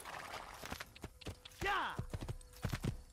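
Galloping horse hooves in the video game Assassin's Creed pound in quick, irregular beats under a player talking, with a brief rising animal-like cry partway through.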